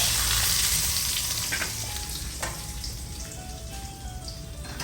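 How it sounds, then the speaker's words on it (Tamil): Chillies and curry leaves fry in a pan for a mango and drumstick curry, giving off a steady, close sizzle that eases slightly midway. Soft clicks and a few stirring sounds come through, and no one speaks. "இந்த மிளகா அப்படியும் போட்டுட்டு கருவேப்பிலை அப்படியே போட்டு"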